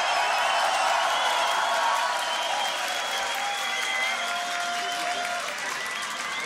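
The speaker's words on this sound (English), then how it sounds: "Give it a round of applause for DR as well" Sustained audience applause and cheering at a beatbox battle, a dense wash of clapping from a large crowd that holds steady and fades slightly toward the end.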